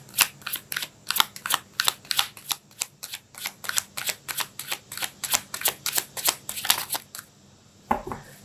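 Tarot cards are shuffled in quick, rhythmic riffles, about twenty crisp flicks in a row, close and clear, followed by a brief soft handling sound as a card is pulled.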